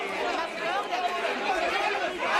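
A media scrum at a high-profile arrival: dense crowd chatter with many overlapping voices, steady and fairly loud throughout, with no single speaker standing out.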